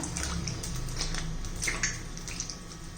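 Water sloshes and splashes in a container as eggplants are rubbed and washed, with soft dripping and rubbing sounds, close by and steady, no voices.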